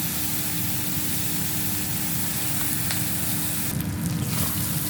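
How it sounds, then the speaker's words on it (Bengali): Pea filling for kachori sizzling as it fries in a pan, a steady close hiss with a constant bubbling crackle throughout and a brief stir or scrape near the end. "পুরটাকে খুব ভালো করে ভেজে নেব।"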